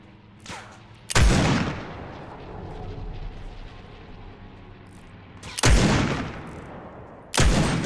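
A scoped revolver fires in a shooter video game: three loud, booming shots at irregular intervals with a fainter crack before the first, each blast followed by a rumbling tail.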